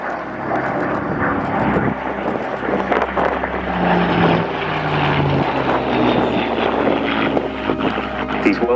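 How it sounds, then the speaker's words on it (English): A World War II propeller aircraft, Spitfire MK356, flying a display at the 2022 Cosford Airshow, its engine a continuous loud drone that rises and falls as it passes. A commentator speaks over a public address throughout. "These World War II aircraft are preserved in flying condition"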